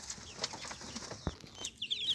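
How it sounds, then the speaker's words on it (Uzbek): Young chicks are let outside for a walk, giving soft chirps and faint clucks nearby over a light outdoor background. "Mana chiqayapti jo'jalarimiz sayrga."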